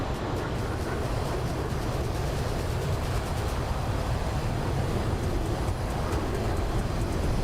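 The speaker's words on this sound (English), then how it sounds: "I turned up the jet fighter noise" Jet fighter warbird engine in Microsoft Flight Simulator, a constant loud roaring drone that stays steady with no breaks.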